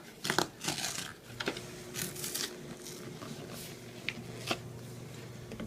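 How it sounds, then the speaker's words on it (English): Packaging on an oyster mushroom grow kit is cut and torn open with a knife or scissors, giving scratchy rustling, crinkling and snipping sounds in quiet, uneven bursts close to the listener. "So I guess I could get my knife or scissors to open this up."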